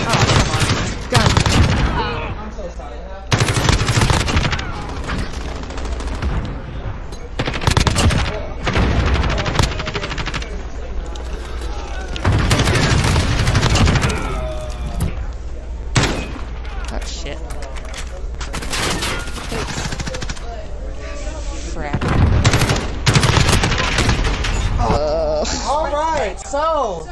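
Rapid bursts of gunfire from a Call of Duty tournament match, loud and clustered in repeated volleys with sharp single shots between them, heard alongside a player's voice talking over the action.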